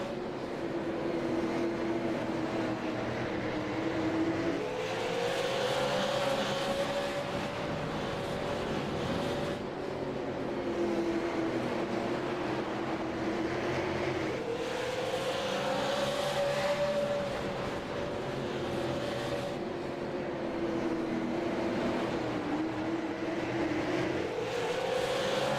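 Several race cars battle closely on track in the iRacing sim, engine notes rising and falling together as they shift through gears, a steady, continuous roar with repeated pitch sweeps and no talk.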